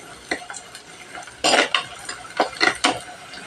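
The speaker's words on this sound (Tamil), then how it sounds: "இந்த பூண்டுமே கொஞ்சம் லைட்டாக சவந்து வர்ற வரைக்கும் நம்ம வதக்கி விட்டுக்கலாம்." Garlic sautéing in a pan for a Sura shark fish curry, with a spoon scraping and clinking against the pan in irregular bursts over a faint, low sizzle, close and fairly quiet.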